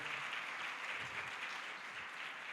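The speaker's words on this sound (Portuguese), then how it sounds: "para o primeiro palestrante, o Moacir Galo, pediria uma salva de palmas" Audience applause for a speaker being introduced at an education and artificial intelligence event, a steady dense clapping that fills the whole stretch at an even level with no talk over it.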